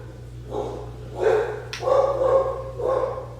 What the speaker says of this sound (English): Hear my dogs.